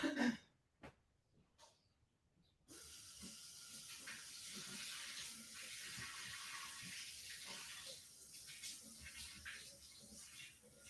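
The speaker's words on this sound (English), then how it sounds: "So I'm going to grab some warm water really quick." Warm water runs steadily from a household tap after a few brief knocks and clatters, a continuous rushing hiss that starts abruptly and carries on to the end with no talking.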